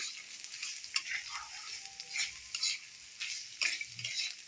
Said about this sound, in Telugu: ఒక 2 స్పూన్లు నూనె పోసుకొని అది కాగాక క్యారెట్ ముక్కలు వేసేద్దాము. వేసి ఒకసారి అలా కలబెట్టుకొని